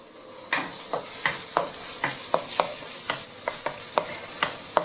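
Chopped garlic and onion sizzle in a pan for fried rice while a utensil stirs them in quick repeated strokes. Crisp scraping taps sound over a steady frying hiss, close and clear.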